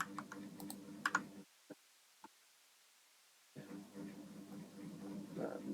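Python code typed on a computer keyboard: a quick run of close, crisp key clicks, a long quiet pause with two lone taps, then a low background hum.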